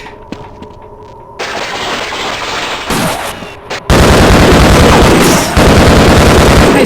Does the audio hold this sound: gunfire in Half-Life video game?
yes